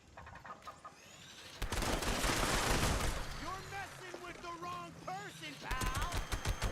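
Gunfire in the video game Fallout 76, a sustained run of loud, dense shots and bursts with a faint crackle before it, mixed with game sounds while a voice talks over the action.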